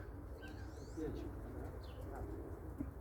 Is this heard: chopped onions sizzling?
no